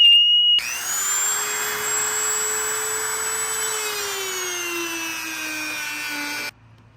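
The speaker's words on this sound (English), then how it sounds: "I'm gonna get those pieces cut off with the Dremel," Dremel rotary tool cutting off light bar mounting pieces on a Tacoma bumper, a loud high-pitched whine that starts suddenly, holds steady, then sags slightly in pitch as it bites in before stopping.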